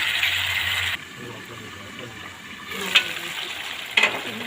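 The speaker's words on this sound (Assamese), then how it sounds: "ভালকৈ লৰাই আৰু অলপ আৰু ঢাকি দিম।" Chicken pieces frying in a pan with tomatoes, a continuous sizzle that drops away briefly when a lid goes on, then returns with a couple of clinks as the meat is stirred.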